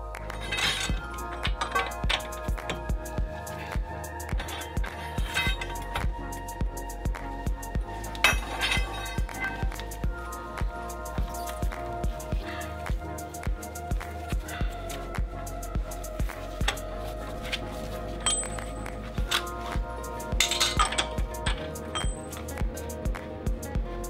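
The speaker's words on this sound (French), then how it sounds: "Desserrez l'écrou du moyeu." A hub nut is loosened on the rear wheel of a Renault Espace IV using a long extension, with scattered light metallic clinks and taps and occasional ringing pings, fairly faint and spread out.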